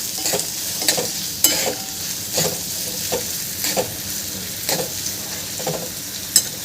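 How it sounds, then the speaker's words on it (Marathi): Capsicum sautés in a pan for street-style masala Maggi, a close, steady sizzle punctuated by repeated scraping stirs of a spoon at a regular rhythm. "याला मी दोन तीन मिनटं छान परतून घेते"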